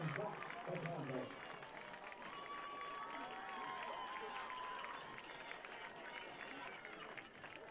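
A crowd applauds and cheers to welcome back the 2003 inaugural Southern Virginia University football team, a steady wash of clapping and voices from a stadium audience that carries on throughout, with a public-address voice faintly present early on.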